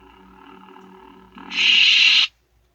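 A Saberforge Redeemer Mk3 toy lightsaber with a Revenge of the Sith sound font hums with a low electric drone, then swells into a loud, bright buzzing surge that cuts off abruptly.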